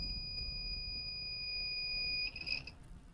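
A homemade soil moisture plant watering alarm sounds a steady, shrill electronic tone for about two seconds, then breaks into a short warbling burst before cutting off, over low background hiss.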